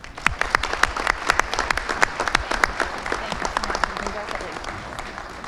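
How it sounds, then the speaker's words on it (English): Audience applause for a guest speaker, the President General of the Daughters of the American Revolution, at a Town of Wappinger inauguration ceremony; a dense, steady crowd clapping with sharp individual claps throughout, fairly loud and continuous. "please give a round of applause for our guest speaker"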